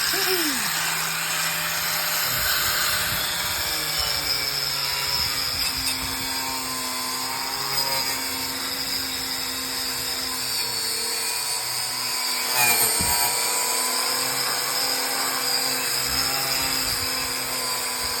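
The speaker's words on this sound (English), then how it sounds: "while I got the angle grinder in my hand" An angle grinder runs steadily while cutting metal on a Dodge Coronet during a build, a continuous loud high-pitched whine with gritty grinding texture holding for the whole stretch, close to the microphone.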